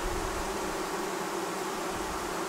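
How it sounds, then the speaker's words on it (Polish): Gentle Buckfast honeybees buzzing around an open hive during an inspection, a soft continuous hum under a hiss of background noise, steady with no voices. "Tak jak to zwykle bywa z pszczołą bakwast, pszczoły są łagodne."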